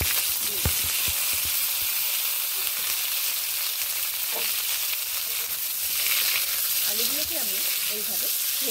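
Boiled potatoes frying in oil with bay leaf and five-spice in a pan, a steady sizzling hiss with occasional stirring clatter, and a faint voice murmuring near the end.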